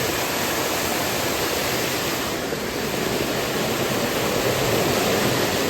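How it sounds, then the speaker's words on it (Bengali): Fast, swollen water rushing downhill in Darjeeling amid landslides, a loud, steady, unbroken roar that fills the whole stretch up close. "এত জোরে বেগে জল নিচে নামছে জল নিচে নামছে এত বেগে এই দেখো কত জোরে জল নামছে"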